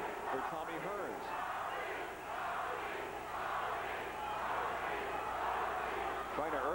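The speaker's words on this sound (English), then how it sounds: "The crowd chanting for Tommy Hearns." A boxing arena crowd chants rhythmically for Tommy Hearns during the ninth round of a 1992 WBA light heavyweight title fight against Iran Barkley, a sustained roaring chant rising and falling across the hall, with a commentator talking over it.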